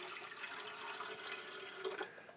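Unfiltered water pours steadily into a powered water filtration system, a close, continuous splashing flow with a few brief clinks near the end.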